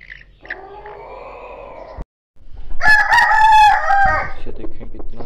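A golden bantam rooster crows twice nearby, the first call drawn out and the second louder and harsher, with faint background noise between them.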